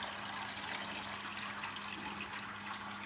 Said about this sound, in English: You're gonna pour this over a strainer.